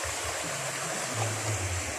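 A shallow stream rushes steadily over sand and gravel near a hut, its wide, even hiss of flowing water filling the whole clip close by with no voices.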